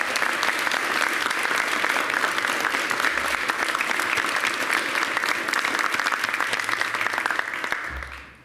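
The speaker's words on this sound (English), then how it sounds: "can we all give them a round of applause?" School principals receive loud sustained applause from the audience at a mayoral event on a district diversity plan, a thick even wash of many hands clapping that fades out quickly at the very end.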